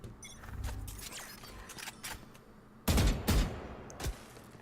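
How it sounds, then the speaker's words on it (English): Gunfire in the video game Valorant during a 1v1 tournament round: scattered single shots and short bursts, with two loud close cracks near the end and a fainter shot after, and no talk. "shots not quite connecting between these two"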